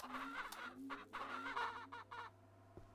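Chickens cluck in the Ranch Simulator video game, a series of short close clucks and squawks in an uneven rhythm over a low steady hum, with no talking.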